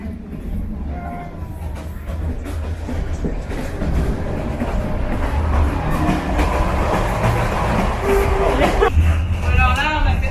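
Train running on rails in Vietnam, heard from inside a passenger wagon: a steady, loud rumble with rhythmic clatter of the wheels, with murmuring voices and passengers moving about in the carriage.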